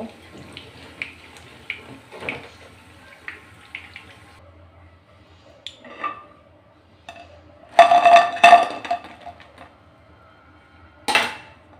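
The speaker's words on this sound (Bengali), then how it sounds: "এখন এগুলো আমি তেল ঝরিয়ে তুলে নেব।" Fried onion lentil fritters are lifted out of hot oil with a metal utensil, giving scattered clinks and scrapes against the pan plus a louder clattering burst, with quiet gaps between.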